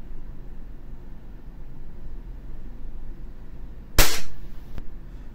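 A single sharp, loud shot from a WE Glock 17 Gen 5 gas airsoft pistol, followed by a short hiss of gas that dies away, against a quiet background.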